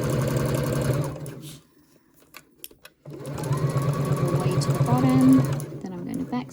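A sewing machine stitches along the edge of a zipper pouch in two bursts of steady rhythmic whirring, loud and close, broken by a short pause filled with light handling clicks.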